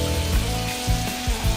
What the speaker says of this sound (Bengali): এগুলো পানি আমরা ফালাইতেছি নিচে